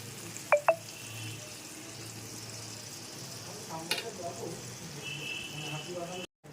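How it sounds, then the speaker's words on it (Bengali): Spice paste fries in a pan with a steady, soft sizzle and occasional utensil clicks against the metal, heard close up and fairly quiet. "যে মশলাটা এতক্ষণ দেখালাম পেস্ট করে দিলাম সেই মশলাটা দিয়ে দিচ্ছি এবার মশলাটাতে খুব সুন্দর করে কষাবো"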